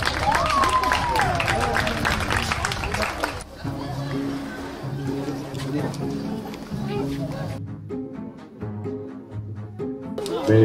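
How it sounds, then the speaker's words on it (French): An audience applauds a rider finishing a round at an equestrian hunter competition, the clapping mixed with crowd noise and heard under a commentator speaking over a public address. "Nous applaudissons donc Cynthia."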